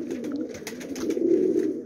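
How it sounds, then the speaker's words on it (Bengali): Rampur Lalshira high-flying pigeons cooing close by, a steady throaty murmur of low coos running continuously through the short stretch with no voices. "মাদা পায়রা আছে"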